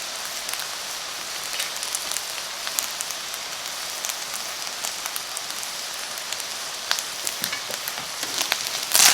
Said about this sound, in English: that frying, crisping sound